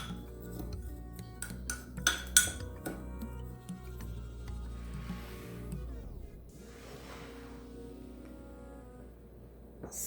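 Spoon clinks and scrapes against a bowl while cinnamon is stirred into brown sugar for an apple crumble cake, a few sharp taps followed by softer scraping, close and clear with no talk.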